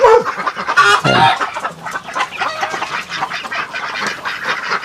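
Native chickens cluck and squawk loudly inside a coop, a close, busy chorus of overlapping calls with a brief spoken word at the start.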